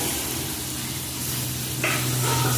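Spice paste and potatoes sautéing in oil in a pan for a papad curry, a dense close sizzle with hissing, rising slightly louder near the end.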